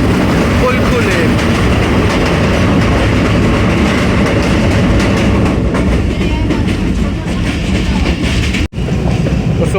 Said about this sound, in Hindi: 102 डाउन सुपर रफ्तार रेलगार वज़ीराबाद जंक्शन रेलवे स्टेशन पे अप्रोच बना रही है